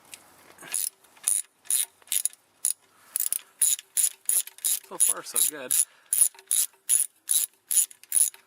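Rapid ratchet clicking in repeated bursts, close and crisp, as transmission pan bolts on a 1999 Mazda Protege are worked loose; someone speaks briefly midway.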